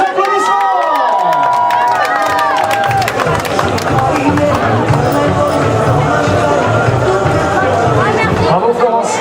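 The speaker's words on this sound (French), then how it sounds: "Mettez-moi le feu, les applaudissements." Crowd at a race finish line, loud cheering and scattered clapping with whoops and excited voices, lively and close, continuing steadily throughout.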